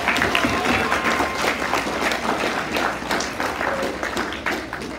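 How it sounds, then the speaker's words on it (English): Red-carpet award event crowd gives a round of applause, a close, lively patter of many hands with some individual sharp claps standing out, continuous across the moment. "Give her a round of applause."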